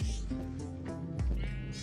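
Minecraft sheep bleat in the game, with several wavering, nasal baa calls close together that are loud and clear, plus a low thump or two between them.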